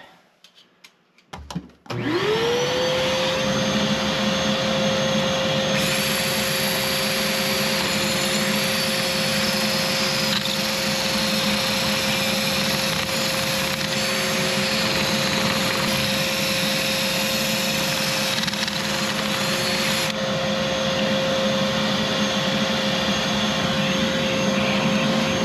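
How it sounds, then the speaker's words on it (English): A vacuum cleaner switches on and roars steadily for the whole stretch, a loud, close, unbroken whine with a constant hum, run alongside a drill while clearing a seized weeping tile drain flap. "I'm going to run the vacuum at the same time"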